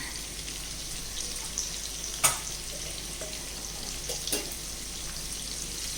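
Paneer sautés in a pan with turmeric and chili powder, giving a quiet, steady sizzle broken by a couple of sharp utensil clinks.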